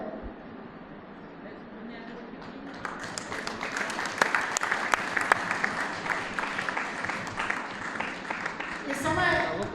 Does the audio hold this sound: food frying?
no